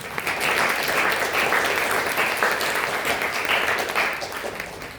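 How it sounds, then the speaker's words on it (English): An audience at an indoor talk gives sustained applause, a dense, even wash of many hands clapping that holds steady for several seconds and fades slightly at the end. "Let's give our spokespeople a big warm round of applause."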